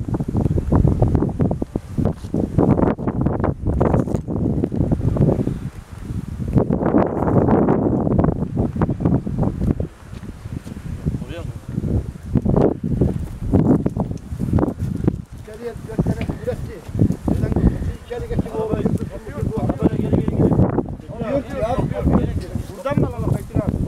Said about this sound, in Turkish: Rüzgarlı bir hava var.